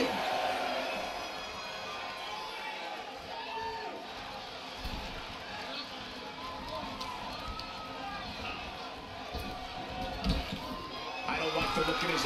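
A wrestling crowd in a large arena keeps up a steady roar of cheering, distant and constant, with a few louder swells and a commentator talking over it.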